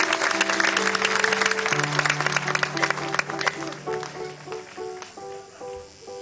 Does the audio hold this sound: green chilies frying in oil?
no